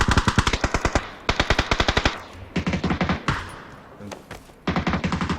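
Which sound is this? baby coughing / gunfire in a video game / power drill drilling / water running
gunfire in a video game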